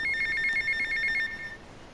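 A payphone rings in the video game Grand Theft Auto Vice City: a single rapid, trilling electronic bell burst lasting about a second and a half, clear and close, then fading out.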